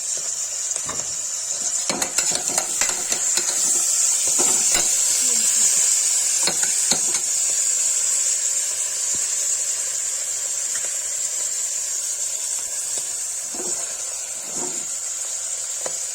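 Saag greens with turmeric frying in a hot pan, a loud continuous hissing sizzle close up, with scraping and clacking stirring strokes scattered throughout and no talking.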